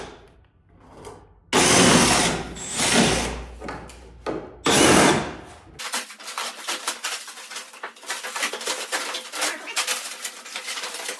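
Hood hinge bolts coming off a Dodge Charger, loud bursts of ratcheting tool noise in several uneven spurts, followed by a rapid clicking, rattling ratchet sound for the last few seconds.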